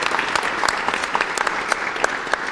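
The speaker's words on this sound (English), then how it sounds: "let's give Xavier a warm round of applause" A room of spectators at a table tennis masterclass gives steady, close applause, dense hand claps with a few sharper individual claps standing out throughout.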